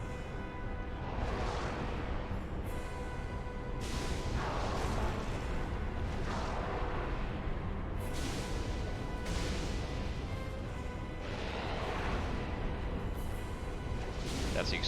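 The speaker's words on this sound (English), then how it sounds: "That's the explosion." A Dark Souls game explosion rumbles through dense, continuous in-game noise, with several broad bursts and swooshes spread across the stretch rather than one isolated blast.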